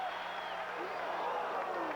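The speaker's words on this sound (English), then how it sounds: "Every time they get 2 strikes on, the people are standing up applauding for a strikeout." Baseball crowd at a 1987 Blue Jays versus Tigers game in Detroit, applauding at a two-strike count, a steady broad wash of clapping and crowd noise with a voice talking over it.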